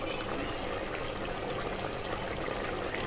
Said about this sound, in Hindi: अब हम इसमें डालेंगे चावल।